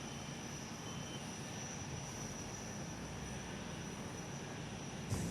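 An airliner on the Perth-Melbourne flight taking off at Perth Airport: a steady, broad jet engine roar heard from a distance, holding level throughout and swelling slightly at the end, with no talking.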